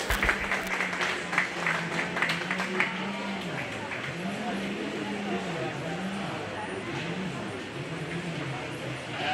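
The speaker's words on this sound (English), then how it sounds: "Let's give those exhibitors a nice round of applause." Crowd applause at a county fair 4-H/FFA sheep show, scattered clapping from the stands that thins quickly into a murmuring background, with a low wavering voice-like tone running underneath.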